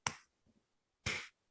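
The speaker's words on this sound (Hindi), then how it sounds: "जैसे मैं आपके सामने एक ताली बजाता हूं" Two sharp single hand claps ring out about a second apart, each crisp and close with a short decay, separated by a faint soft sound in the near-silent gap.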